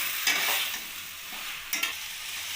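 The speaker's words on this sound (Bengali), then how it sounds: "বেগুন আর শিমটা দিয়ে আমি আবার ভালোভাবে কষিয়ে নেব" Eggplant and flat beans being stir-fried with spices in a wok, a steady close sizzle broken by two louder bursts of scraping and tossing as the spatula turns the vegetables, with no talking.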